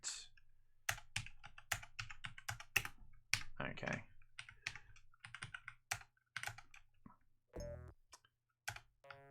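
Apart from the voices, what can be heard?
computer keyboard typing while mapping game buttons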